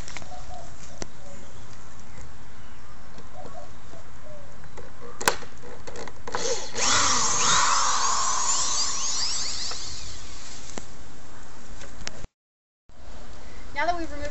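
Power drill backing screws out of a wooden knife throwing target board, a sustained rising whir with scraping and creaking wood, preceded and followed by scattered clicks and handling noises, close and fairly loud.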